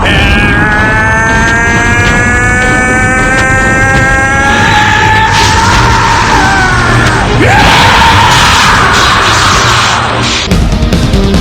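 Goku screams as he transforms into Super Saiyan 3, a loud, sustained, strained yell that rises over a roaring wall of rumbling energy and whooshing noise for about eleven seconds.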